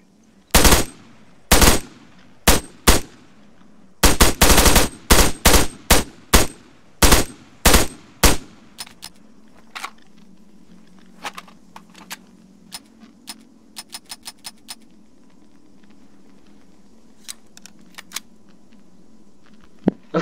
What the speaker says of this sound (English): that was the AK-74 with the GP25 grenade launcher